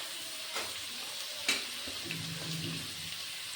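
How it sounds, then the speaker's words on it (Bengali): Potatoes and chopped onion fry in hot oil, a steady soft sizzle running throughout with a few close clatters of a spoon stirring the pan. "আলু আর পেঁয়াজ কুচিটা একসঙ্গে ভেজে নেব"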